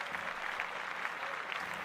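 An audience claps steadily, a dense even patter of applause holding at a moderate level throughout with no pause.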